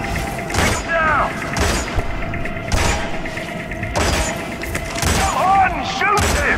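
Gunfire in the stealth video game Hitman, Colorado level: repeated bursts of shots and thuds recurring every second or so, with mechanical clatter and voices talking over the action.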